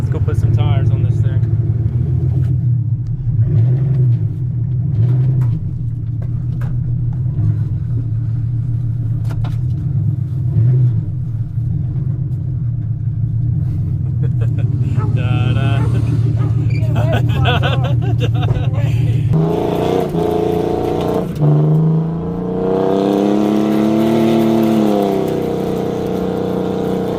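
A junkyard truck engine loud and close, rumbling steadily as the truck spins donuts, with the pitch shifting and revving harder near the end; people talk over it.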